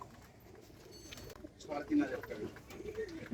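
A Kaldum pigeon cooing softly at a bird seller's, low throaty coos in the second half under faint background voices and chatter.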